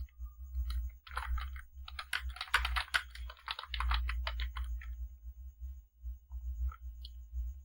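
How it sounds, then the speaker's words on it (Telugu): Quick typing on a computer keyboard, bursts of soft clicking keystrokes that speed up in the middle and then thin out, close and clear over a low hum. "ఫాంట్ కలర్ చేంజ్ చేసి ఇప్పుడు టైప్ చేస్తున్నాను"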